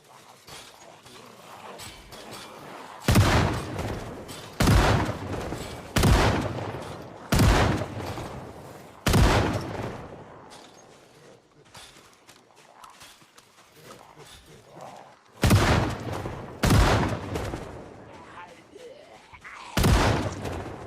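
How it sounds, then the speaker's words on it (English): Gunshots ring out in Project Zomboid as a character fires through fences, loud sharp reports in spaced single shots and quick pairs, separated by quieter pauses with faint background noise. "I can shoot through fences,"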